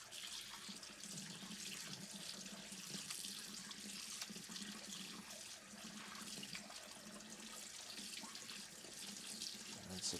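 Tap water runs steadily into a kitchen sink to rinse liver that had soaked in milk, a continuous close hiss of flowing water with no talk.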